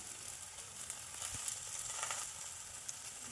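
Paratha flatbread frying in a little oil in a pan, a steady soft sizzle and crackle throughout, close but fairly quiet, with no talking.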